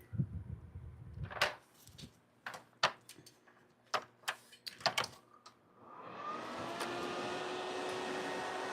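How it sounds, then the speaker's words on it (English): A nail dust extractor switches on about six seconds in and keeps running as a steady, fairly loud whoosh, after several sharp clicks and knocks of handling and small tools. "I just turned on my dust extractor and it blows from underneath"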